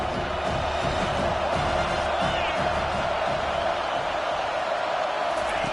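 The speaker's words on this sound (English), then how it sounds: "this crowd is tearing the lid off this place" Stadium crowd in College Football 25 at a Texas at Penn State game, a dense and steady roar of cheering that fills the whole stretch without letup, with a commentator talking over it.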